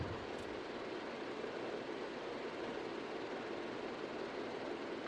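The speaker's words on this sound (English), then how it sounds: "So hands on the throttle. We're going to push them up, and I want to make sure we got full RPM now." Twin engines of a Grumman Albatross seaplane in Microsoft Flight Simulator run at full RPM, giving a steady, dense, unbroken roar that fills the whole stretch with no voices.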